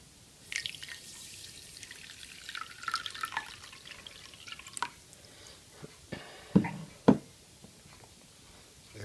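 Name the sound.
water being poured into a bowl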